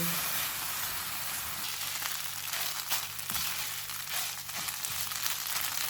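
Chicken bread pakora filling of chicken, flour and half a cup of milk cooks down in a pan on the stove, giving a steady, close, even sizzle and bubbling hiss with a low hum underneath throughout.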